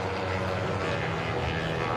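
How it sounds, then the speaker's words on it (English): Racing motorbikes with heavily modified engines, including a Yamaha, roar steadily and loudly through a race-track corner in one continuous wall of engine noise, with no voices. "Just the sound of these bikes as they crackle and pop coming into the corners"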